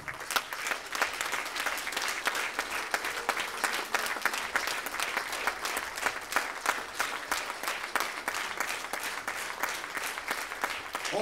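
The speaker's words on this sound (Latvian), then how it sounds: "Un lielas jo lielas gavilēs un aplausīs šīs dienas jubilāriem senioru deju kolektīvam Sitrap Vilnis, kā arī vadītājai Ingrīdai Lūk" A large audience applauds steadily for a senior folk dance group at an anniversary celebration, a dense, loud, continuous clatter of many hands sustained from start to finish with no talk over it.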